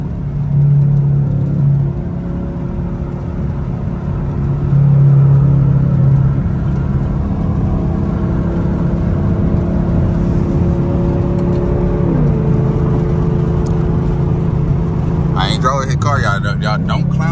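A loud, straight-piped V8 in a sixth-generation Chevrolet Camaro SS rumbles and revs, climbing through the gears with a brief dip at a shift, then a harsh crackling burst near the end.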